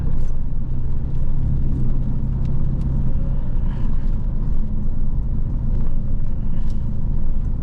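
Heavy road traffic with many cars creates a loud, continuous low rumble close by. The engine drone stays steady throughout, with no voices.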